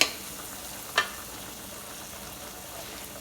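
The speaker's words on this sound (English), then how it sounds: "So cooking all of the tomatoes." Tomatoes cook in a pan with a steady, quiet frying sizzle and two brief sharp clicks near the start, no talk.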